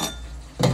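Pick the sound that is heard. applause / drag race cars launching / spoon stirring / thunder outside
spoon stirring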